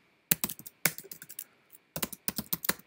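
Computer keyboard keys clatter in quick bursts of clicks, close and clear, with short pauses between runs of typing and no voices.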